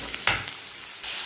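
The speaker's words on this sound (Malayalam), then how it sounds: "കടുക് ചേർക്കാം." Mustard seeds hit hot oil and sizzle, a brief close hiss with a sharp onset and a fresh crackling surge near the end, heard alone for a cabbage stir-fry.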